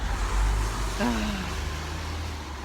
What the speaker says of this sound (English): I'll just wait for all these cars to go past.